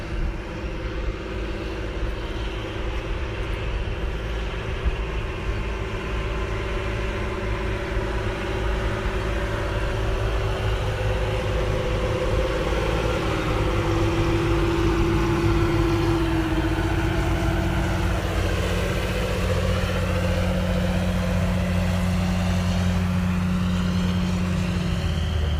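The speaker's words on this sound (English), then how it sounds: "So here comes the tractors back," Tractors drive back along a drag strip at a Spring Nationals drag racing event in Avenal, California, a steady loud engine drone that holds throughout with shifting tones as they pass.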